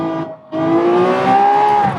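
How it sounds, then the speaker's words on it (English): A Lamborghini in Gran Turismo 7 at Monza, its engine revving hard at full throttle with a steady rising whine, loud and close, broken by one brief lift off the pedal. "See there, I can hammer on the throttle."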